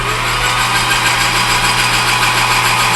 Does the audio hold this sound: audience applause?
no